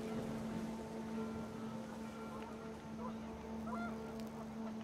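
Panicked geese honking in What Remains of Edith Finch, scattered calls over a steady droning background hum and wind that run through the whole stretch.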